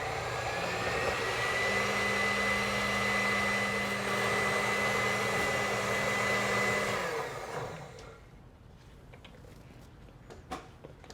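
A blender whirs steadily at a high pitch, blending Huancaína sauce with evaporated milk and egg yolks, with a low hum underneath; after about seven seconds the motor winds down to near quiet, broken by a few faint knocks.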